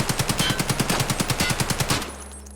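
A fully modded AKM rifle fires a rapid full-auto burst in a video game, about twenty evenly spaced loud shots over two seconds before stopping abruptly and leaving a faint electronic hum.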